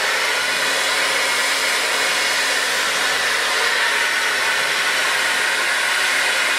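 A hair dryer blows steadily and loudly throughout while hair is brushed back with a big round brush, a continuous breathy whoosh with no pauses.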